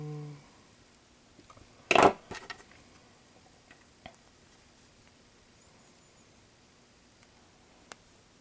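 Plastic model kit part for a 1/144 HG Gundam AGE-2 Dark Hound snipped off its runner with cutters, one sharp close snap followed by faint clicks of handling.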